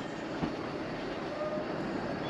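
A 1913 Metro Camel coach of the Isle of Man Steam Railway rolls steadily along the line near Santon, with a continuous low rumble of wheels on rails and faint rhythmic clatter.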